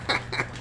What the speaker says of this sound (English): And you hit circle to quack.